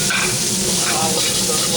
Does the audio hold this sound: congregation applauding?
no